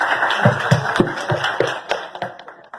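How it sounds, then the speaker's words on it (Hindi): Scattered audience applause in short uneven bursts of hand claps, close and fairly loud, tapering off toward the end. "ये जो तालियां भी बजा रहे हैं"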